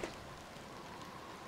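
Steady rain hissing evenly in the video game Biomutant, a soft continuous wash with no distinct drops and no voices.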